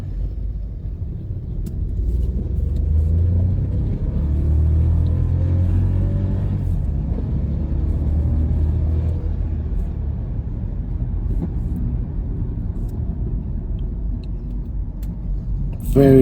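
A VW Polo TSI with DSG gearbox accelerating, a low engine rumble from inside the cabin swelling and easing through gear changes, with someone talking over it.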